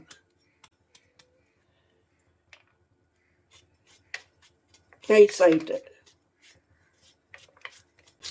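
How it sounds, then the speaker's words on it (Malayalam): Taro stalks are chopped finely with a knife on a board, producing sparse, crisp ticks and cuts spaced irregularly and fairly quiet, with a short stretch of speech in the middle. "ക്യാബേജ് അരിയുന്ന പോലെ അരിയണം"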